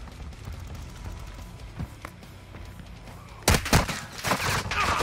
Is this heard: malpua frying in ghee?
no